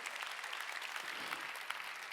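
A church congregation claps hands together during a Sunday worship service, producing a steady, soft patter of applause that carries on evenly before ending with a sudden loud knock.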